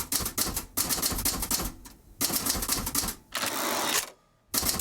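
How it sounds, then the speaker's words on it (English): A manual typewriter clatters in close, rapid bursts of keystrokes, broken by short pauses and a carriage return, with no talking. "I'm typing up my recollection of the meeting."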